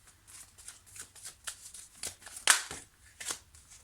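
A deck of tarot cards being shuffled by hand: a series of soft, quick riffling flutters in an uneven rhythm, close and quiet, with one sharper snap partway through.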